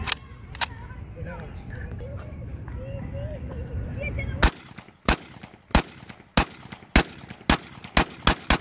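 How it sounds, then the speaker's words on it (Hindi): 30 bore semiautomatic MP5-style gun being test fired with its second magazine: after background murmur and voices, about nine sharp, loud single shots follow in a steady, evenly spaced rhythm, close by. "इसमें भी दूसरा मैगजीन टेस्ट फायर होगा"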